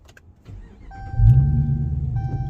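Gen IV Hemi V8 with a stage 3 cam, comp lifters, BBK headers and Magnaflow exhaust cranking and catching into a deep, lumpy idle that rumbles on, close and fairly loud, with no talk.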